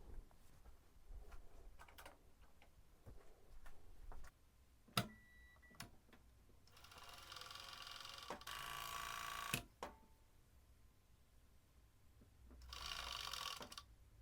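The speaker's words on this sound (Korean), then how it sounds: "오버록으로 제작하면 만드는 건 금방이니까" An overlock serger stitching a sweatshirt, with short bursts of fast mechanical whirring between quieter ticks and clicks of handling the fabric, fairly faint and close, no voices.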